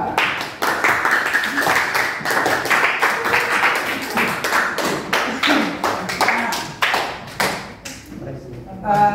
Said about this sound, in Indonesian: sekali lagi tepuk tangan untuk mereka kedua